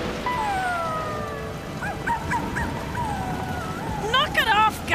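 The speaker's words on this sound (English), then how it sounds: "The whimpering!" Dog-like animal whimpering and whining in a high, wavering voice over steady rain in an animated outback cartoon, with short yips near the end.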